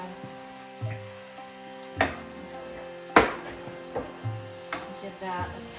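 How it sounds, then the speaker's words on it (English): A radish stir fry with scallion and soy sauce is stirred in a pan: soft sizzling runs underneath while a utensil scrapes and knocks against the pan a few times at irregular intervals, close and fairly quiet. "give that a stir"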